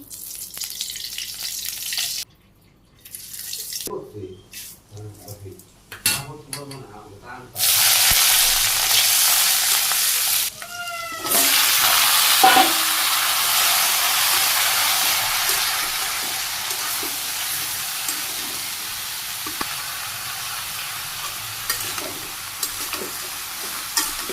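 In a Bangladeshi village kitchen, vegetables such as pointed gourd drop into hot oil in a pan and burst into a loud, sudden sizzle. Scattered quieter handling noises come first, then the frying settles into a long, steady hiss.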